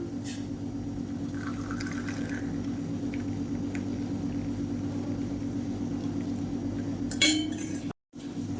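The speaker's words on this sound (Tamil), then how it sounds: "இப்போ தான் வடிகட்டிக்கலாம்" Dry-ginger, pepper and long-pepper herbal decoction strained in a kitchen: liquid pours and trickles with light clinks of pots and utensils, over a steady low hum, then a sharper clatter near the end.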